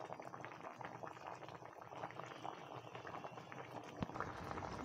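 Fish curry with kochu and begun simmering in a pot, a faint, steady bubbling with a soft liquid churn and one small knock near the end.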